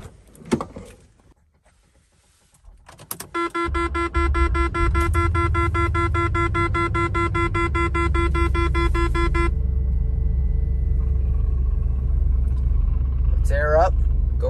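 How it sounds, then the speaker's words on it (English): Cabin sound of a Range Rover P38 starting off: a door and chime tones, then a steady low engine and road rumble from inside the moving vehicle, with voices speaking briefly. "As you can see, we're riding in the P38."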